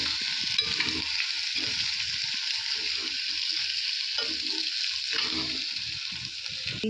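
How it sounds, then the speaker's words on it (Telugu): Turmeric and chili powder frying in oil in a pan give a steady, loud, close sizzle, broken by repeated scraping stirs of a spoon, with no voices. "పసుపు, తర్వాత కారం ఒక్కసారి కలిపేద్దామండి, సో దట్ అది మనకి మాడకుండా ఉండడానికి."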